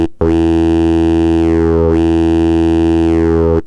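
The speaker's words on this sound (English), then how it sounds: "We can add a little bit of a movement on that warp mode, something simulating a growl possibly," A growling bass synth patch built in Serum with warp-mode movement plays loud and alone, two sustained buzzy notes with a sweeping, wobbling tone.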